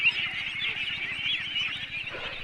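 Ducks on a Bangladeshi village duck farm, back on land after bathing in the river, give a dense, continuous chorus of honking and quacking calls at moderate distance, with no talk.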